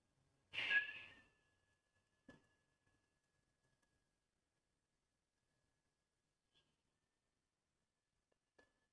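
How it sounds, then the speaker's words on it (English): One soft, breathy whistle is blown through pursed lips during a breathing exercise, a short airy tone near the listener. Several seconds of near silence follow, broken by a few faint ticks. "Inhale, making a whistling sound through your lips."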